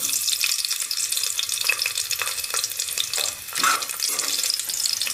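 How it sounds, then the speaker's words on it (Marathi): Whole spices (cloves, cinnamon and bay leaf) dropped into hot oil crackle and sizzle loudly up close, with scattered pops and sharp bursts over a continuous frying hiss. "तेल गरम झालेलं आहे, त्याच्यामध्ये आपण आपले खडे मसाले टाकूया। लवंग, दालचिनी, तमालपत्र"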